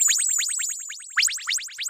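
Rapid, glittery synthetic chirps sweep downward in quick repeating bursts, a bright, busy electronic effect with short pauses between clusters.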